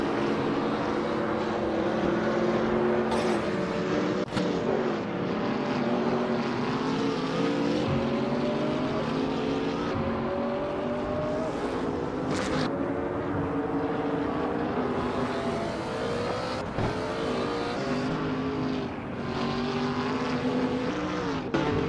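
Simulated GT3 race cars lapping Paul Ricard in qualifying, a steady layered engine drone with several cars' pitches rising and falling through gear changes, continuous and fairly loud with no talk.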